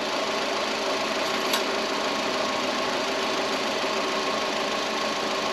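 An engine with about 160k miles idles steadily in neutral after start-up, nearly at operating temperature with the car raised in the air, giving a constant, even mechanical hum with a faint ticking texture and no talk.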